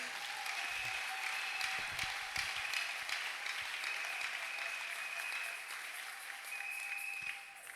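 A church congregation breaks into steady, sustained applause for God, a dense wash of many hands clapping with a faint ringing tone running underneath, fading slightly at the end.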